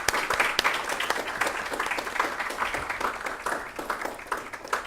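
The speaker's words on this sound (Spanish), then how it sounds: "les pido unas palmas por su presencia y también por la presencia" Audience applause at a live colloquium of women philosophers, a dense, steady patter of many hands clapping that holds for several seconds at moderate level, with no talk over it.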